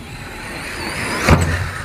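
A Kraton RC car speeds toward a portable ramp, its motor a steady whine before a sharp thump as it hits the ramp and launches, followed by a brief rumble.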